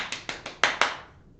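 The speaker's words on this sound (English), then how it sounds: "If I start clapping my hands, I'm clapping them now." Five sharp hand claps in a steady, slightly quickening rhythm, close and fairly loud, each with a short room decay, with no other sound.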